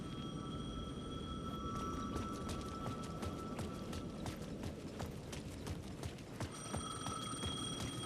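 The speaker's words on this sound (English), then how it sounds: "The payphone was ringing again." A payphone rings in the Alan Wake 2 video game, a rapid metallic bell trill repeating over a steady low background hum, moderately loud and continuous.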